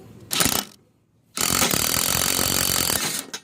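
A bushing being pressed out of a lowrider's lower control arm with basic tools: a short harsh grinding burst, a pause, then a loud sustained grinding, creaking strain lasting nearly two seconds before it pops free.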